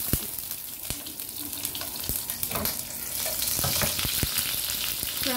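Garlic frying in cooking oil for a glass noodle soup, a steady sizzle with sharp clicks and taps of a utensil against the pan, close and fairly loud throughout, no talk.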